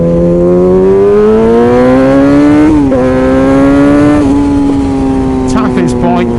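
A BMW scrambler motorcycle's engine roars loudly and close, its pitch climbing and settling in sustained revs with a brief dip, and a voice joins near the end.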